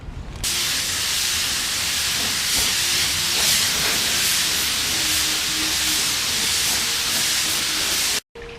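A continuous, loud hiss of spray primer being applied, steady for several seconds before cutting off briefly near the end.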